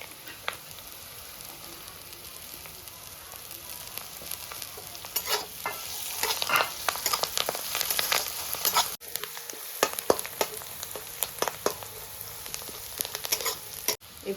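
Chopped green chillies sizzle and crackle in hot oil for sooji upma, with a steady fry hiss and scattered sharp pops and spoon scrapes throughout, no talk.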